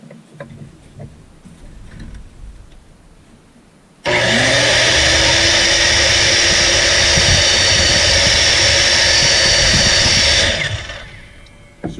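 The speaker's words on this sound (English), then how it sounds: "It will begin to spin, and as soon as you try to cut something, it just stops spinning." A faulty miter saw motor starts abruptly into a loud, steady high whine with a low rising tone, runs for several seconds, then winds down and stops, followed by quieter shop noise.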